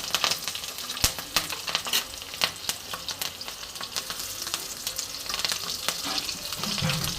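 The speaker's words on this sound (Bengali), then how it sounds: "এইবার দেখো কড়াইতে আমি একটু কালো জিরে ফোড়ন দিচ্ছি আর তার সাথে আমি দুটো কাঁচা লঙ্কা চেরা ফোড়ন দিয়ে দিলাম" Black cumin seeds and slit green chillies sizzle and crackle in hot oil in a wok, a steady close frying hiss broken by sharp popping spits, with no voices.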